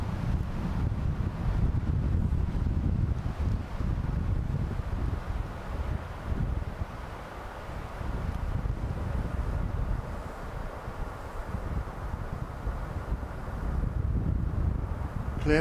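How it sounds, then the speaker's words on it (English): Wind buffets the microphone in a steady, loud low rumble throughout, outdoors at an RAF Lakenheath night-flying session, with slight rises and dips in strength and no clear talk. "Why can't the wind just bugger off?"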